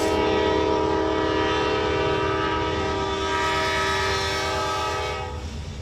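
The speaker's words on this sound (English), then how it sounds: "An hour and a half waiting on the train to go by?" A Norfolk rail train rumbles steadily past close by at a railroad crossing, its horn blaring in long sustained tones over the heavy rolling of the cars.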